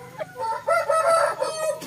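Pure Japanese Shamo roosters crowing in a yard, a few overlapping nearby crows with clucking between them, heard alone without talk.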